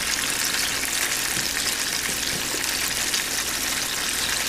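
Squirrel legs deep frying in a pan of hot oil, a loud, continuous bubbling sizzle that holds steady and close with no talking over it.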